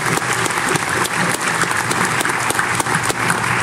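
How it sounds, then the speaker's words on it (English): Audience applause rings out steadily through a tech demonstration, dense and sustained clapping filling the whole moment at close range without a break. "I think that deserves a round of applause."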